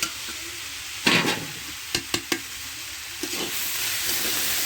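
Turnip, cauliflower and shrimp frying together in a pan make a quiet hiss, with a few brief scrapes and clatters of stirring scattered through.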